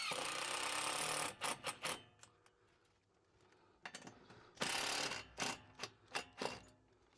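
A power drill or driver sinks screws while a whole house fan is mounted in an attic, with several short buzzing bursts separated by pauses, close and fairly loud.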